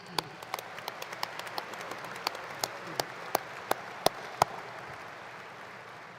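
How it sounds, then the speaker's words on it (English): Applause at a university commencement ceremony, faint and distant, with sparse individual claps growing more pronounced and evenly spaced toward the end. "please, give them a round of applause."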